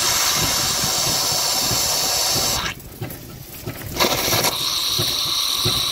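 Steam injector on a Merryweather steam fire pump starting up, a loud continuous hiss and rush that briefly dips, then picks up again with sputtering and a steady roar.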